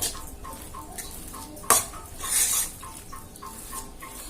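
A ladle stirring sago pearls in a pot, with rhythmic scraping strokes repeating evenly, one sharp metallic clack and a brief soft sizzle, close and moderately loud.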